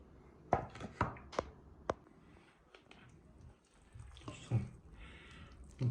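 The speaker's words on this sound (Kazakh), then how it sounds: "bir сәбізді осылайдан майдалап турап сала береміз" A knife dices a carrot into small cubes in a Kazakh home kitchen, making a handful of sharp, quiet taps on the board at an uneven pace with no talking.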